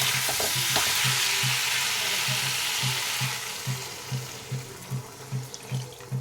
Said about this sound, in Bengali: এবার আমি পরিমাণ মতন জল দিয়ে দেবো।